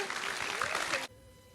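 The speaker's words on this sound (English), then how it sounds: "Let's give her a round of applause." Audience applause at a fiction festival conversation event, a burst of dense clapping from a seated crowd that stops abruptly after about a second, leaving quiet room tone.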